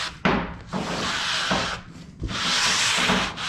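Close, brisk scratchy rubbing of sandpaper on a wooden kitchen cabinet in several back-and-forth strokes, with brief pauses between passes.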